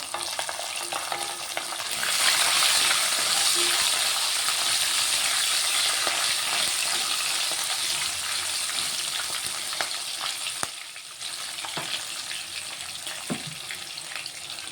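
Asafoetida and red chillies sizzling in hot tempering oil for a lemon rice seasoning, a steady loud frying hiss with occasional stirring clinks, heard alone without talk.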